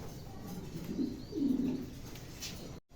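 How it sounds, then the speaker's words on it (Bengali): Pigeons at a pigeon market coo softly twice in low, rolling tones, faint and somewhat distant against a steady background hum. "চমৎকার এক জোড়া কবুতর"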